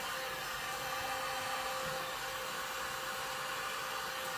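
Handheld dryer blowing on a box coated with triple thick Duraclear, a steady high-pitched whirring hiss that holds constant and close without pause.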